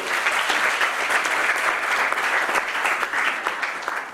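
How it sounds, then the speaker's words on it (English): An audience at a Mumbai startup accelerator event claps steadily for a few seconds, a dense, even wash of many hands with no speech over it. "Can we clap for her?"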